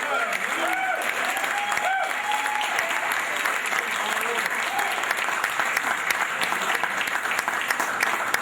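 Sustained applause fills a room at a retirement party at The Clevelander, a dense steady clapping crowd with scattered cheers and voices mixed in, lasting the whole stretch.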